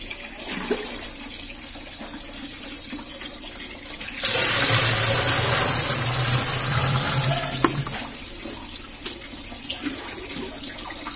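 A tap runs into a bucket for about three and a half seconds, a loud rushing splash heard close. Quieter handling noises come before and after it.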